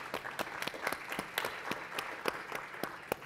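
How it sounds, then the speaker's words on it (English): Applause from a small audience at a Latine philanthropic leadership event, a thin scattering of separate claps at moderate distance, uneven in rhythm and fairly quiet. "let's give him a round of applause"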